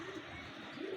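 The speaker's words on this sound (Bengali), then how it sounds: "ট্যাডি কবুতর।" Teddy pigeon giving a short low coo, close and fairly quiet against faint background hiss.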